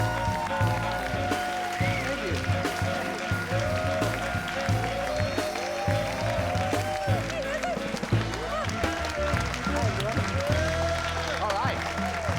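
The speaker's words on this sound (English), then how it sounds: "please give an enthusiastic round of applause for Reza" Audience applause greets the host of the live Rough Draft show in Silver Lake, a steady wash of clapping running the length of the clip beneath prominent music and bursts of voices.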